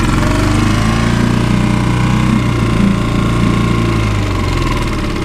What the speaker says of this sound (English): Going to see if I can start this motor on one pull.